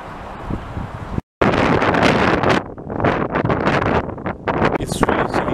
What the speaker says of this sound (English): It's really chilly today, it's really windy.